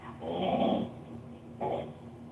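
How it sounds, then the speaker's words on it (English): Dogs growling, with two low snarling bursts separated by a short pause. The growls sound moderately close over a steady low hum, with no speech. "My dogs are getting crazy."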